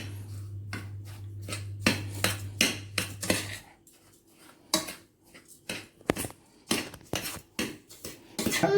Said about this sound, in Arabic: قلبنا الزبادي مع السمنه مع البسبوسه